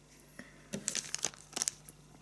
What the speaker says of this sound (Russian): находится вот в таком вот пакетике, то есть поставляются приманки в классическом для фирмы BAT упаковке, которая имеет zip-замок.